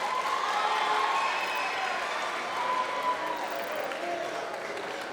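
An audience at a 2023 high school graduation ceremony claps steadily in a large hall, a dense, even wash of applause at moderate level throughout.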